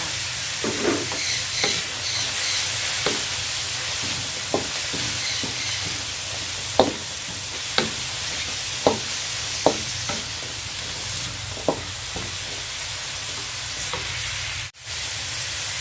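Vegetables and carrots stir-fried in a pan, with a steady loud sizzle and hiss under repeated sharp scrapes and clacks of a utensil against the pan, ending in a brief drop in the sizzle.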